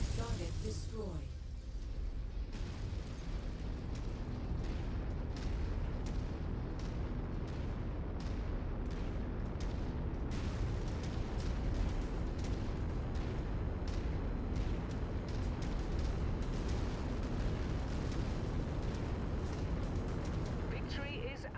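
Heavy explosions and rapid gunfire boom repeatedly as a tank is destroyed in a mech combat video game, a continuous barrage of blasts with a voice speaking over it.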